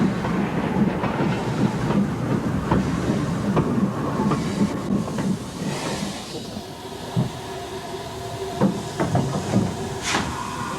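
An older-class locomotive hauls a freight train bound for Titograd in 1962 Yugoslavia: a continuous rumbling roll with rhythmic wheel clatter and hissing steam, loud and sustained, easing slightly toward the end.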